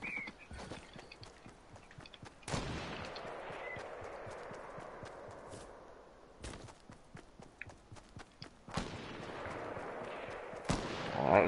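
Gunfire in Fortnite comes as a few loud, sharp cracks spaced several seconds apart, with lighter clattering footstep-like ticks and low background game noise between them.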